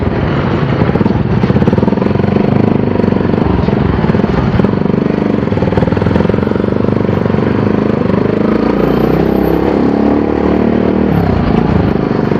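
A heavy Bajaj Pulsar NS motorcycle with an unwelded, rattling fuel tank, ridden uphill, gives a loud, continuous engine drone close by, with shifting pitch and an underlying clatter.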